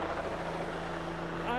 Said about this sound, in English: there's a helicopter hovering over us